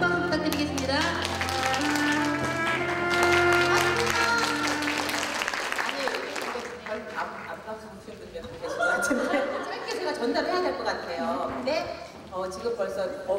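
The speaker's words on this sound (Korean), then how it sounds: "우리 안 선생님한테 큰 박수 부탁드리겠습니다" An audience at a Korean piano pedagogy conference applauds, a full burst of clapping mixed with voices and tonal sound that thins midway and then swells again.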